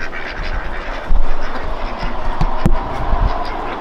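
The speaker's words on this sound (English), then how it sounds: "we have got 9 female geese and 9 male geese, and at the moment they're all fighting for dominancy" A flock of farmyard geese, nine females and nine males fighting for dominance, honk and squabble close by in overlapping, irregular calls over a rough background.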